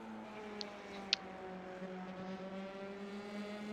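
Formula 3 race cars in the iRacing sim roar steadily around the Lime Rock circuit in Connecticut, a continuous layered engine drone with two sharp clicks partway through.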